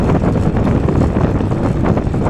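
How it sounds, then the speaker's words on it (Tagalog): Strong wind buffets the microphone during a long fixed-gear bicycle ride, a constant, loud, low roar with gusty fluctuations throughout; no voices. "Pipigilan ako ng hangin."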